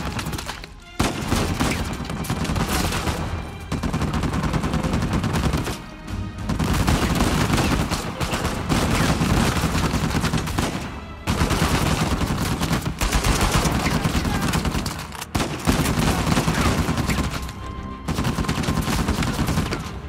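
Sustained gunfire in Uncharted 4, with dense rapid bursts of shots broken by brief pauses across the whole stretch, loud and close, with no talk over it.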